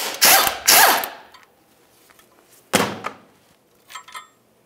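Ratchet wrench working on the last exhaust manifold bolt of a Ford Flex, two quick loud bursts of ratcheting clicks, a pause, a sharp metallic clunk, then faint light clicks.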